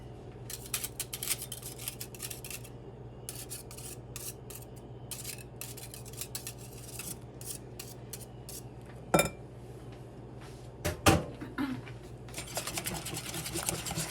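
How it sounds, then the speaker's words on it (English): Pancake batter for stuffed pancakes is whisked in a bowl, giving quick irregular scraping clinks of the whisk against the bowl, fairly quiet, with a couple of louder knocks and no talk. "Just give these a really good whisk."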